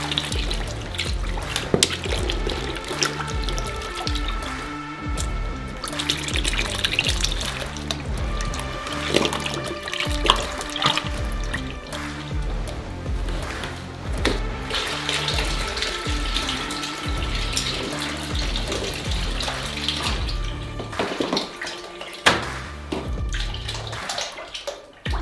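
Ten litres of 33% fat cream pour into a large batch of browned caramel for a giant 200-kilogram Picnic bar, making a steady, loud liquid gush with bubbling and splashing that runs without a break and without voices.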